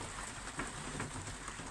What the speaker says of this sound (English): combination of sleet and rain.